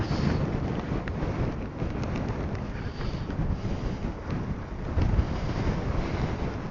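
Strong wind buffets the microphone at the Pamban sea bridge over open sea, a continuous loud roar with gusty swells and possible waves beneath, no voices.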